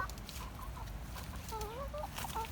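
Chickens clucking in short, scattered bursts over a steady low rumble of background noise, at a moderate level with no talk.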